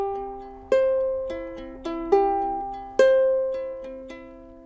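Ukulele fingerpicking pattern with one note left ringing, a clear series of single plucked notes in an uneven rhythm, each decaying slowly, played close and alone.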